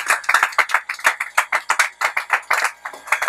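A church congregation in Kinshasa claps loudly and steadily in unison to acclaim the Lord, a brisk even rhythm of sharp hand claps filling the room with no one speaking.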